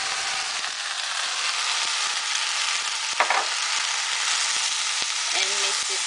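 Hungarian lecsó with sliced Hungarian sausage sautés in a pan as a loud, steady frying hiss, broken by a brief scrape of stirring partway through and faint clinks toward the end.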